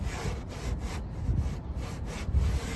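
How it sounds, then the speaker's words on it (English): Sandpaper rubs back and forth along the edges of a wooden door to knock off burrs and rough spots, a soft, close rhythmic scratching with short pauses between strokes. "just hit these edges with a little sandpaper, just to get off any burrs and rough spots."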